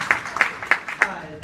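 A few sharp, evenly spaced hand claps ring out close by, about five in steady rhythm, as a brief clap of appreciation.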